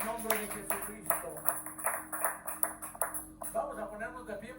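Congregation in a church clapping together in a steady rhythmic beat, sharp claps repeating about twice a second, with voices mixed in underneath.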